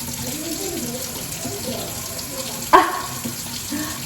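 A kitchen tap runs steadily while zucchini leaves are washed, water splashing into a sink with a faint voice in the background and one sharper splash or clatter midway.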